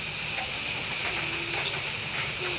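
Rice-flour pitha fries in a pan with a steady, faint sizzle and hiss, with occasional light stirring scrapes and no talking.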